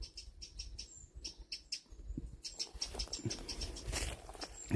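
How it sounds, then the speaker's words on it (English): A small bird chirps near its nest, uttering quick high repeated chirps in short bursts over faint rustling and ambient outdoor noise. "This little bird doesn't like us being in here."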